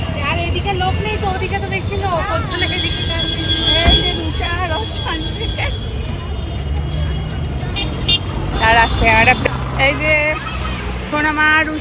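A train rolls past with squealing wheels and a horn toot, mixed with street traffic and several people talking nearby during the Ulto Rath Yatra festival.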